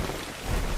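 Rain falls in the video game Ark Survival Evolved, a dense, continuous hiss with a low rumbling undertone, steady and fairly loud throughout.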